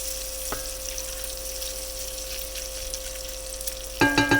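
Bacon fat rendering in a pan sizzles as a steady, even hiss close by, with a background hum and a few clinks near the end.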